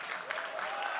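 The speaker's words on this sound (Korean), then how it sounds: "국민의힘 윤석열 후보가 국민의힘 선거 상황실 안으로 환호를 받으면서 들어오고 있습니다" A crowd in the People Power Party election situation room cheers and claps as presidential candidate Yoon Suk-yeol walks in. The dense, even applause lasts about a second, with a voice talking over it.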